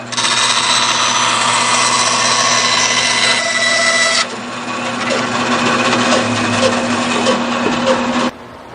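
A loud power tool whines steadily close by, shifting pitch partway as it bites through material, then cuts out near the end.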